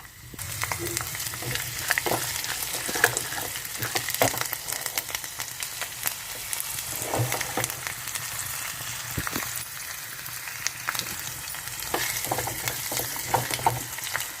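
Chana dal, with cumin, mustard seeds and urad dal, frying in oil as a tempering for gongura dried-prawn curry, a steady crackling sizzle with repeated close scraping stirs and no talk.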